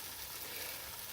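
Mushroom cream sauce simmers and sizzles in a pan while being stirred, giving a steady, even bubbling hiss with no talk.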